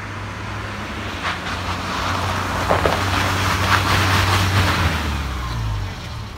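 A car speeds up to about 50 km/h and brakes hard on a winter road, heard as a steady engine and tire roar with a low drone that swells mid-way and then fades, with no talk.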